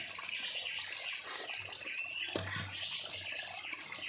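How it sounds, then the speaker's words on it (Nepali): Steady running water from a small tap splashes continuously into a container nearby, with a constant bright hiss and gurgle and no voices. "यो सानो धारामा त कतिखेर हो त भरि"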